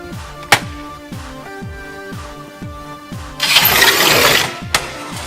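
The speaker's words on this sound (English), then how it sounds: "lift the breaker lever until you can see and hear the rod entering the first slot of the mechanism" A Rubi TZ tile cutter's breaker lever rod snaps into its slot with sharp metallic clicks, set against steady repeating mechanical tones and a brief burst of rushing noise.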